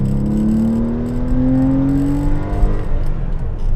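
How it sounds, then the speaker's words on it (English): A Porsche 911 Carrera 4S (993) engine runs steadily and smoothly, its pitch climbing gradually as it revs up, then settling into a constant hum, close and loud. "This has got to be one of the smoothest engines I have ever driven."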